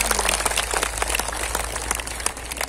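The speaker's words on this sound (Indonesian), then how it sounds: "Tepuk tangan dulu dong." An audience applauds at an outdoor religious gathering in the yard of a police headquarters, a dense, moderately loud patter of many hands clapping that continues steadily without talking.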